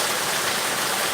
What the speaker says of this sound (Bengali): প্রচণ্ড বৃষ্টি হচ্ছে পাহাড়পুরের দিকে